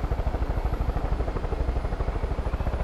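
Rapid rhythmic rotor chop from a burning helicopter going down in the video game Far Cry 5, a loud, steady thudding pulse with a faint high whine and no speech.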